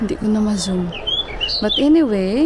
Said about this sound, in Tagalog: Ay, ang ganda ng ibon, ang ganda ng kanyang tunog.